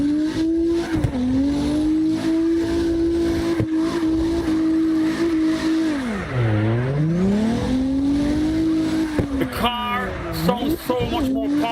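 A BMW E46 in CarX Drift Racing Online holds a loud, steady high-revving engine drone through a drift, dipping sharply as revs drop then climbing again, with tire squeal and a voice talking over it.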